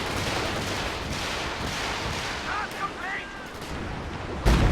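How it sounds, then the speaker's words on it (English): Stuka rocket artillery barrage in Company of Heroes 2, with dense rumbling battlefield fire, scattered distant gunshots and a whistling streak of incoming rockets before a sudden loud impact near the end. "Here comes a Stuka, getting quite close in terms of range."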